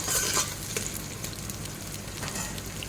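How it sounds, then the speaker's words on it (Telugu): Carrots sizzle steadily in a hot pan while being stirred for Kuwaiti-style mutton rice, with a continuous close frying hiss and occasional scraping strokes, no voices. "క్యారెట్ వేస్తున్నాను వీటిని కూడా కొద్దిసేపు ఫ్రై చేసుకుందాం"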